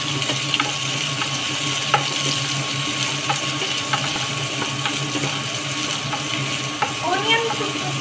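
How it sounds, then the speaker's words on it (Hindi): Onions frying in a pan, a steady mid-level sizzle running throughout with occasional light clicks and a faint metallic clink near the end. "ओनियन को तब तक हल्का ब्राउन होने दें।"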